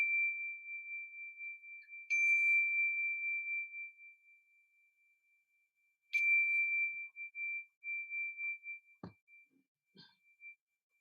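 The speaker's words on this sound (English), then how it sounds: "So just finishing off the meditation with a bell." A meditation bell rings to close a meditation session. It is struck twice, and each strike leaves a clear, pure ringing tone that slowly fades in a quiet room, followed by a dull knock and a faint rustle.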